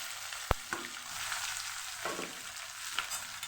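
Potatoes going into hot oil with dry chillies and curry leaves for a fasting-day farali dish, a soft steady sizzle with a sharp clink near the start and a few light stirring scrapes.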